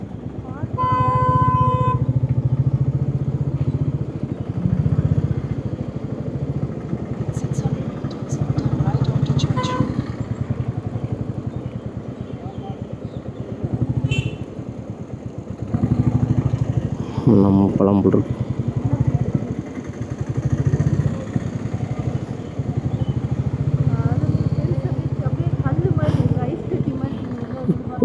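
A motorbike rides through heavy traffic on a road trip toward Kanyakumari, its engine droning steadily and loud throughout while a rider talks over it, with brief drops and surges in the engine noise.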